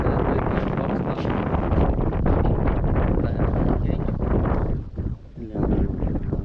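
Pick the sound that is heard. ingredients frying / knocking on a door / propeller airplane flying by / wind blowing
wind blowing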